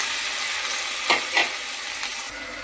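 Tomatoes frying in oil in a kadai give a steady, close sizzling hiss, with a few soft stirring scrapes rising briefly above it.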